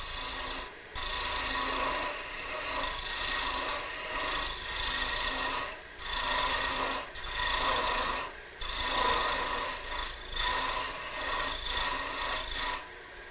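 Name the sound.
lathe cutter head cutting wood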